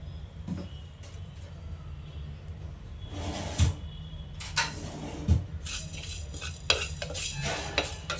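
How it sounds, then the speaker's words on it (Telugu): Fenugreek seeds fry in oil on a low flame while a spoon stirs them, giving a faint steady sizzle under a few scrapes and clanks against the pan, with louder clatter toward the end. "సిమ్లోనే వేపుకోవాలండి."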